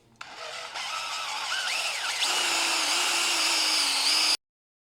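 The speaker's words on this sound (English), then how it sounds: "I've got the drill, I'm just going to be drilling down holes into here" A power drill bores holes into the rubber bushing of a Land Rover Freelander 1 front wishbone, whining steadily at close range, its pitch shifting as it bites, then stopping abruptly.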